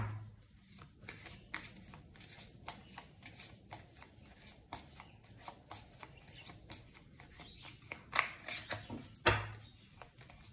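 Tarot cards are shuffled by hand at close range, giving a steady run of crisp flicking and riffling taps, with a couple of louder slaps near the end and no voices.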